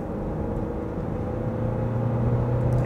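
A 2021 Kia Sedona diesel minivan pulls hard under full throttle, a steady, close engine drone and rumble from inside the cabin that builds gradually over a few seconds without any talking.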